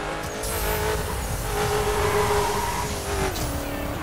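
Saleen Twin Turbo supercar in the racing game The Crew, its engine droning steadily under acceleration with a rising then falling pitch and a brief tire squeal, loud and continuous with no talk.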